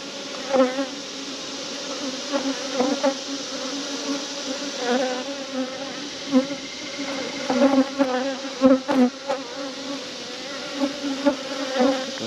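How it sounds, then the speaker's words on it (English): Dense buzzing of many honeybees close by around a hive, a steady drone with occasional louder passes as individual bees fly near. "Chase these bees off that are on the edge."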